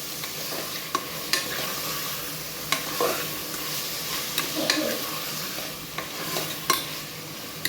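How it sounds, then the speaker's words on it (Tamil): Tomatoes and green chillies sauté in a pan for a spiced dhalcha kuzhambu, a steady close sizzle and frying hiss broken by occasional stirring scrapes and light clinks, with no talking. "தக்காளியும் பச்சை மிளகாயும் நல்லா வந்து வதங்கட்டும்."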